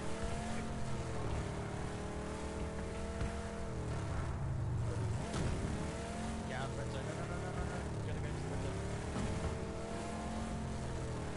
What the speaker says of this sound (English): can you hear that engine?